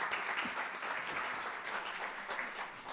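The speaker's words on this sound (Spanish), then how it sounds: "lo recibimos con un gran aplauso" A seminar audience claps steadily to welcome a speaker, a dense, even roll of applause that lasts the whole stretch with no talk over it.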